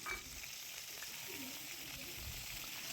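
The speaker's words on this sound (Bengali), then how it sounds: "লাল লাল করে ভেজে তুলে রাখবো।" Bitter gourd slices frying in oil in a wok for a village-style shukto, giving a steady low crackle and sizzle with occasional stirring scrapes, close and fairly quiet throughout.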